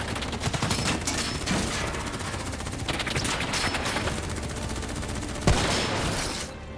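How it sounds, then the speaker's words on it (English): Sustained rapid gunfire from Call of Duty Black Ops 3 rattles continuously, loud and dense, with a sharp heavier shot near the end before it tapers off. "Who's shooting?"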